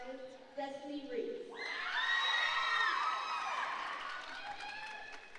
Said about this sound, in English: A cheer from the Centerville crowd as Destiny Reese is announced the winner of Heat 3.